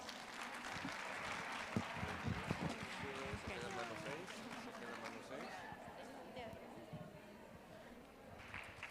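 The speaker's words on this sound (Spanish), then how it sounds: "Un aplauso fuerte, por favor." An audience at a women's leadership summit breaks into dense applause that swells early, then thins and tapers off, with a voice starting to speak as the clapping fades.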